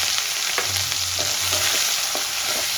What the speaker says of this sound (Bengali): এভাবে লাল করে ভেজে নেব যেন পেঁয়াজটা পুড়ে না যায়